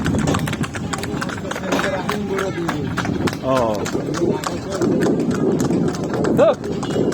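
Hooves of a horse pulling a tomtom carriage through a village clip-clop in a quick, even rhythm, close and clear, with people talking over them the whole way.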